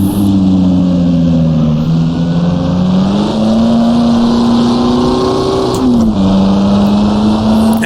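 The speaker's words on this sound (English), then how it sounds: "Really try to use that engine to help slow the car down. All right, down to first gear." A vintage race car in Assetto Corsa at the rural Australian Gnoo Blas circuit drones loudly as the engine brakes, its pitch stepping through downshifts with a brief blip near the end, steady and close with no talk.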